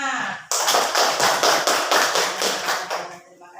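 Students in a classroom clap together in a short run of loud, rhythmic unison claps, about a dozen evenly spaced beats, then stop.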